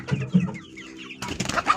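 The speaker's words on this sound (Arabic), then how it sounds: "الفراخ الفيومي دي انا كنت شارياها" Fayoumi hens clucking close by in a backyard poultry coop, a few short throaty clucks and squawks at the start followed by busier, scratchier sounds from the flock, with no talking.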